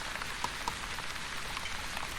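Steady rain falls in the video game The Wandering Village, a constant soft hiss of drops with a few brighter patters standing out, fairly faint and with no voices.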